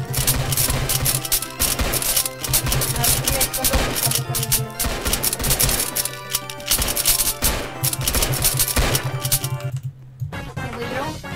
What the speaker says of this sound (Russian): Стрельба. Прикольно.